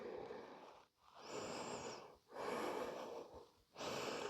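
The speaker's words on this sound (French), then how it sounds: "On rapproche le front du sol sans le déposer. On reste 2 profondes respirations." Deep, slow breaths held while bent forward in a yoga back-routine pose, three long inhale–exhale cycles close to the mic with brief pauses between, no talking.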